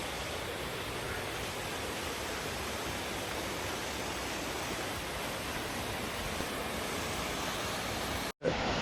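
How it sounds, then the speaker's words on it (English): A waterfall along the Elfin Lake trail in British Columbia pours as a steady, dense rush of broadband noise, constant throughout and ending in a sudden brief cutout. "We're coming into a waterfall"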